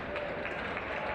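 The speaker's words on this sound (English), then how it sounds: "Good applause and appreciation of his performance" A football crowd at a schools national final gives brief, steady applause for a substituted player, soft and distant.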